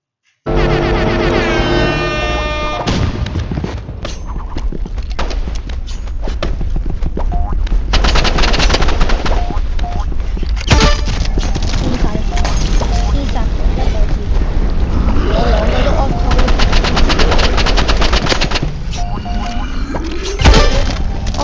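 An assault rifle fires in automatic mode in a Roblox shooter, a loud, dense rattle of rapid shots in long sustained bursts, with a voice talking over the gunfire.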